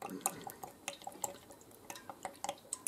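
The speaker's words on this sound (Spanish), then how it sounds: "Le echamos aceite" Oil poured into a frying pan for homemade buñuelos de viento, heard as quick, uneven drips and splashes of liquid, close and fairly quiet, with no talking.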